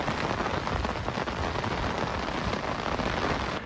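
Heavy rain pours down steadily during a storm in Çan, Turkey, a loud, dense, unbroken hiss of drops hitting surfaces, with no voices.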